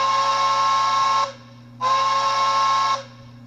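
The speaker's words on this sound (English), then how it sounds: "Whistle." Two long blasts of a steam whistle, separated by a short gap, from a Bachmann HO streamlined K4 steam locomotive model fitted with a TCS WowSound decoder. Loud, close and breathy over a faint hum.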